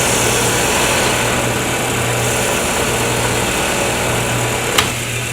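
A wood lathe turning a pen blank hums steadily through light back-and-forth cuts. The motor's whir stays constant and fairly loud, with one brief sharp tick near the end.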